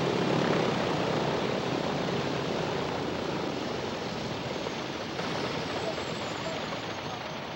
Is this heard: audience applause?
no